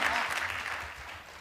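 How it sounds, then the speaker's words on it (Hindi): Audience applause at a Hindi kavi sammelan poetry gathering, a brief burst of many hands clapping, loudest at the start and easing off slightly over about a second and a half. "एक बार जोरदार तालियों से समर्थन करिए"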